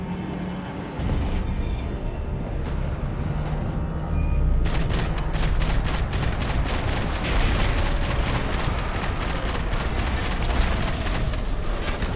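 Sustained gunfire rattles in Max Payne 3, with a steady stream of loud, rapid shots over a low rumbling din that grows denser midway through and keeps going without pause.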